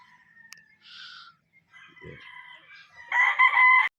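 Roosters crow on a farm, several calls scattered through the clip and a loud, close crow at the end, with softer clucks between.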